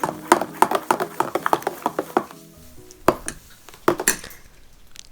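A spoon clinks and scrapes steadily against a bowl while stirring jaggery, milk and pepper powder together for homemade junnu, a quick run of taps followed by a short pause and a few more scattered knocks.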